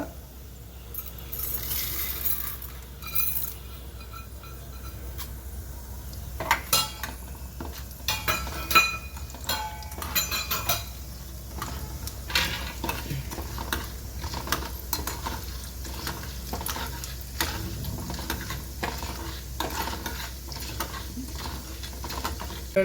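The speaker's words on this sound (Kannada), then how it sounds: "ಇದರ ಜೊತೆನೇ ನಾನು ಉದ್ದಿನಬೇಳೆ ಹಾಕ್ತಾ ಇದ್ದೇನೆ ಇವಾಗ" Urad dal goes into a hot pan with dry coconut and fries with a soft, continuous sizzle, broken by repeated scraping stirs and light metallic clinks of a spoon against the pan.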